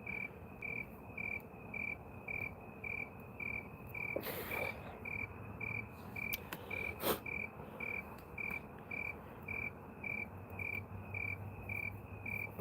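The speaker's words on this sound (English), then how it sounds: "I can hear the crickets in the background." Crickets chirp at night in a steady pulsing rhythm of short bursts, with frog croaks low beneath them and a few faint bumps, sustained throughout with no speech.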